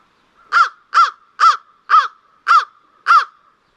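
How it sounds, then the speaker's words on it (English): American crow calls: six sharp, clear caws in an even series, each a short bright burst separated by brief silence, loud and close with no other sounds. "And compare that to the call of a crow."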